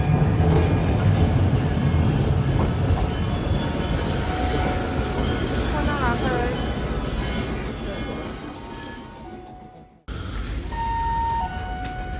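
A train rumbles into a Japanese station and slows to a stop, with wheel squeal and a few tonal chimes near the end, loud and close.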